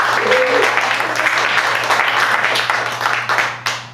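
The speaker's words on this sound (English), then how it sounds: "Let's give a round of applause for Steve." An audience at a jazz combo's Hanukkah celebration claps warmly for a band member, a full round of applause that holds steady over a low electrical hum and then tapers off near the end.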